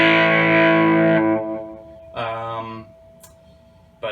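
Electric guitar played through a TCT (Toronto City Transit) Delay Jr. vintage-style delay pedal with a modern delay chip: a sustained distorted chord fades, then a second strummed chord rings with audible echo repeats trailing off.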